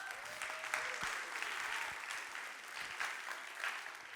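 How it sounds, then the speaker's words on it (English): An audience claps steadily, a warm wash of applause with no voices standing out above it. "Give her a big round of applause."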